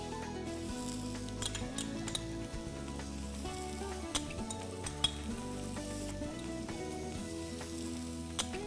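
Vegetables sizzle steadily in a pan up close, with occasional sharp clinks and scrapes of a utensil against the metal.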